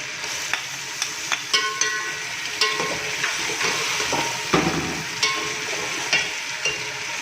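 Chicken sizzles loudly in a pan as garlic-ginger paste for biryani goes in and is stirred, with repeated clinks and scrapes of a spoon over a continuous close frying hiss.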